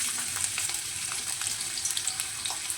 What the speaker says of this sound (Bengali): সর্ষের তেল গরম হয়ে গেছে, তুলে দেবো এই পেঁয়াজ কুচিগুলো